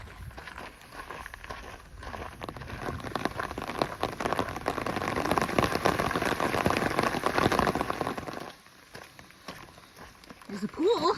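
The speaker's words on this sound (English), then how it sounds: "Too bad it's raining." Steady rain falls along the Camino Frances near Portomarin, a dense hiss of drops on the surface that swells mid-clip, then drops away, with a voice near the end.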